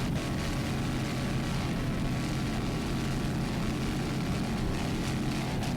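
Loud, steady engine roar of a Super V light single racing powerboat at the 2001 APBA Worlds race, a continuous dense drone running the whole time with no talk.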